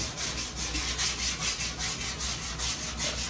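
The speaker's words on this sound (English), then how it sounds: "I'm not putting a lot of pressure on this sanding block." Rhythmic back-and-forth rubbing of a sanding block gliding with light pressure over a car body panel, steady strokes about three per second, close and fairly quiet with no talking.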